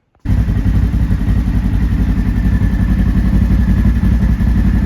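A turbocharged Polaris General XP UTV engine starts abruptly and runs with a deep, steady rumbling exhaust, loud and close, idling continuously.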